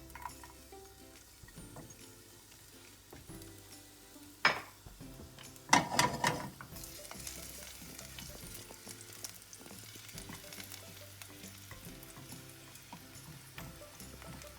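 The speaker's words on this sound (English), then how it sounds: "Now I'm going to put some garlic into the hot pan." Garlic frying in a hot pan, with a steady soft sizzle interrupted by metallic clinks of utensils against the pan, and a louder burst of sizzling as the garlic goes in, then continuous crackling.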